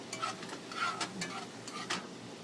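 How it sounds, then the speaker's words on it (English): A wine and lemon juice sauce in a pan on the stove gives a faint, steady bubbling sizzle with a few brief scrapes and clinks, quiet and close. "Let that simmer down for a little while."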